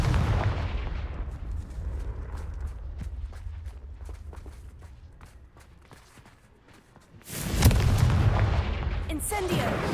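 Confringo blasting spell in Hogwarts Legacy, with fiery bursts and booming impacts opening the scene, then a quieter stretch of rapid footsteps before another loud roaring blast near the end.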